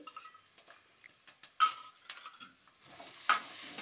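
Stone-ground village spices being stirred into an onion paste in a pan, with scraping spoon strokes, two sharper clinks of a utensil against the metal, and a soft sizzle underneath.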